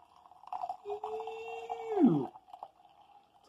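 Champagne-flavored Bang Energy Drink is poured from a can, the liquid making a resonant, hollow gurgling tone that holds steady and then drops away as the pour ends, fairly close and quiet.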